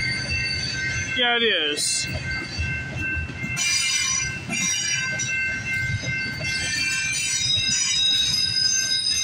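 CP freight train 131 rolls past at Guelph Line, Mile 38 on the Galt Subdivision late at night, a continuous near rumble of cars with a sharp rising wheel squeal early on and further high squeals later, while someone speaks briefly.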